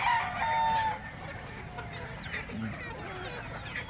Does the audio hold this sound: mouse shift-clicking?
no